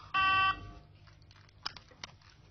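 Dead telephone line tone from a TV sitcom scene: a brief loud buzzy electronic tone lasting about half a second, followed by faint clicks and rustling with no talk.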